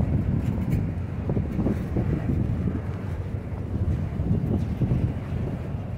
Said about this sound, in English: I should stop the wind from blowing it around too much.